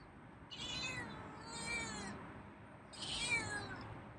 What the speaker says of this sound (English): Wow, that's a meow.